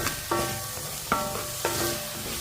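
Chopped tomatoes sautéing in a pan for a weight-loss soup, a dense sizzle broken by three or four ringing scrapes of a utensil against the metal, near and without voices.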